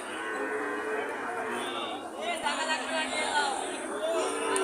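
A young Sahiwal calf moos at a busy cattle market in Joypurhat, its drawn-out calls rising over steady crowd chatter and nearby voices.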